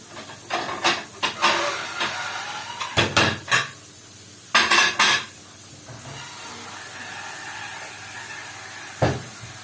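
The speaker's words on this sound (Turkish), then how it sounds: "Bir de tabak çıkarayım." Dishes clatter in bursts as a plate is taken out, with several sharp clinks and knocks of crockery close by, a pause, another cluster of clatters, then one last knock against a soft background hiss.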